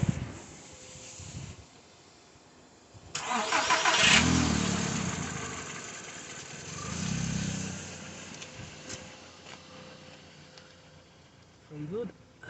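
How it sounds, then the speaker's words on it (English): A VW Golf 1.6 engine, freshly fitted with a new starter motor, cranks and fires about three seconds in, then runs loudly with a second swell of revving, with people talking near it before and after. "switch the ignition on, and see if she starts up"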